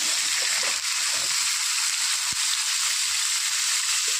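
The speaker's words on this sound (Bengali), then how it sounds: "আলু আর পটল ভালো করে লাল করে ভেজে নেবো" Cubed potato and pointed gourd fry in hot oil in a pan, a steady close sizzle with one brief sharp tap from a utensil partway through.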